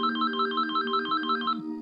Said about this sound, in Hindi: तभी उसे जसविंदर का फोन आया